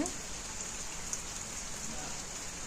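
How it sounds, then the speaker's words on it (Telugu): Steady rain pours down in an even, continuous hiss, heard alone and at a moderate distance. "నైట్ నుంచి అయితే ఫుల్ వర్షం పడుతుందండి"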